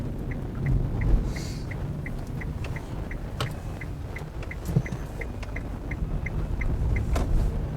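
A car drives over a bumpy stretch of country road, with a steady low interior rumble and a few soft thumps, while a regular light ticking repeats throughout.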